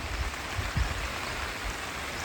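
Rain falling at Lucky Bay on a morning with a double rainbow, a steady, fairly soft wash of patter and hiss with a few low thumps, close and continuous.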